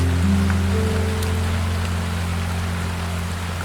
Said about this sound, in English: the turning of the river over its smooth stone bed